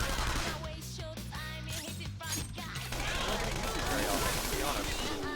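Assault rifle fire in a Persona video game crackles in rapid bursts that grow denser toward the end, heard under and after someone talking.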